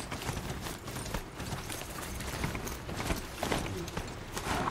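Footsteps of Strider, the robot horse ridden in the video game Horizon Zero Dawn, a continuous, evenly paced clip-clop under dense game ambience with no talking.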